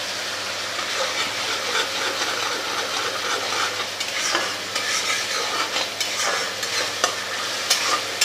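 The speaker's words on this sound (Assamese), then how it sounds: "এতিয়া বনাই থোৱা মই মছলা পেষ্টটো ইয়াতে দি দিছোঁ" Masala paste frying in a pan on high flame for a soya chunk curry, a dense continuous close sizzle with intermittent stirring scrapes and spoon clinks.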